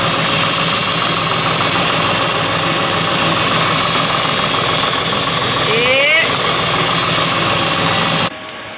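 Water jet cutting machine running at low pressure in a workshop, giving a loud, steady mechanical drone with a thin high whine and a brief sweeping tone, before the sound cuts off abruptly near the end.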